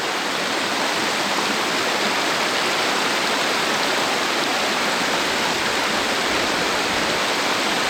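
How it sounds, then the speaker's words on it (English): Small creek flowing over a hiking trail, a steady, loud, close rush of water with constant hiss and no pauses, no voices. "so it's just a nice little creek, and get to walk across it."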